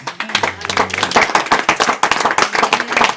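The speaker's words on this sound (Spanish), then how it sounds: "¿Cuánto le dan un aplauso al Señor por eso?" A church congregation claps and applauds together in a sustained, dense burst of hand claps lasting several seconds, with voices mixed in under the clapping.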